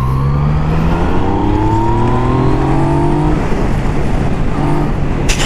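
Yamaha MT-09 motorcycle accelerating from the rider's seat, a loud engine drone rising in pitch through rising sweeps and gear changes, continuous under wind noise.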